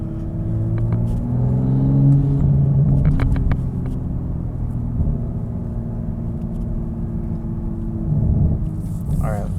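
A Toyota MK5 Supra with a Tomei dual titanium full exhaust system rumbles nearby, with a deep low drone and a quick rev swelling in the middle before settling back to a steady idle.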